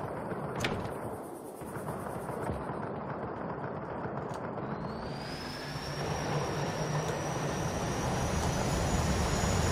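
Aircraft engine in the video game Just Cause 3, a steady loud roar with a rising whine partway through, heavy continuous rumble throughout and no talk.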